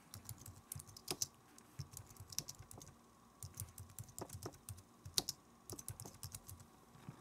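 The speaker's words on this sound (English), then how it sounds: "so I typed it in" Someone types on a computer keyboard in quick, irregular bursts of light clicks with short pauses between them. The keys sound close but fairly quiet, and no one talks.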